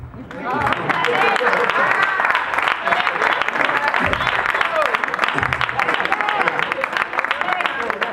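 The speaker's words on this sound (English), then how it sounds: "Y'all should be clapping." A church congregation at a Mother's Day Sunday service clapping steadily, rhythmic hand claps with voices and call-outs mixed in, fairly loud and sustained throughout.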